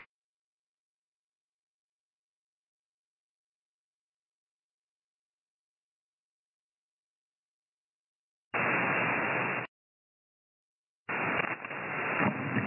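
Band static on the 40-meter ham radio band, two bursts of harsh, band-limited hiss after long silence, the second longer and slightly uneven, with no voices.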